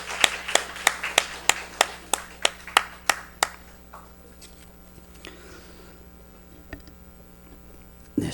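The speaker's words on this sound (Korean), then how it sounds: "우리 살아계신 하나님께 영광의 박수 올려드립시다." A congregation at a Sunday morning church worship service claps together: about a dozen sharp, evenly spaced unison claps in a quick rhythm, then near silence with faint scattered sounds.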